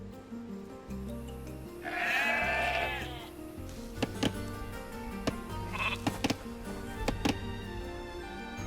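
Sheep in Age of Empires II bleat loudly in a long wavering call, then a shorter one, over steady game background music with scattered sharp clicks.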